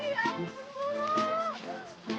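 A cow moos with a long, drawn-out tonal call, close and fairly loud, followed by a shorter second low; a person speaks calmly around it.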